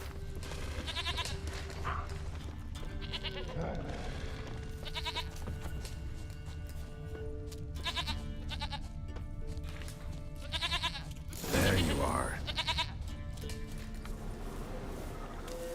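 In The Witcher 3: Wild Hunt a goat bleats several times among hoof clops and farmyard ambience, the bleats coming in short repeated bursts with a louder rustling burst near the end and a voice speaking briefly.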